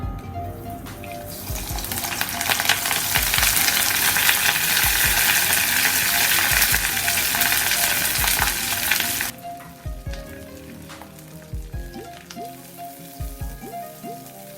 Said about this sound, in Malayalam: അപ്പം ഞാൻ ഈ അരിഞ്ഞു വെച്ച ചെറിയുള്ളിയും കറിവേപ്പിലയിലേക്ക് ഇട്ട് കൊടുക്കുന്നുണ്ട്.